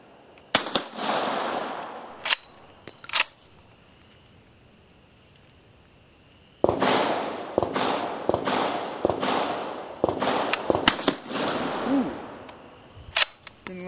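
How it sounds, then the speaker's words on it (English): An M1886 Austrian Mannlicher rifle fires at an outdoor range, sharp loud cracks with ringing tails, several shots spaced irregularly around a long quiet pause. "I'm out here and I'm going to try to put a few rounds through with it."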